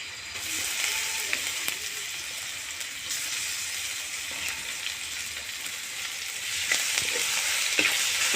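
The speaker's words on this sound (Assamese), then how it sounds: "এইখিনি অলপ ভাজি মই ইয়াত আদা ৰচুনখিনি দি দিম।" Turmeric, ginger and garlic frying in hot oil for a chicken curry, a continuous loud sizzle with occasional stirring scrapes, close and steady, no talk.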